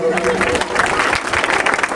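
An audience claps at a village Teeyan festival in Dhol Khurd, Ludhiana: a short, close burst of applause, with voices mixed in.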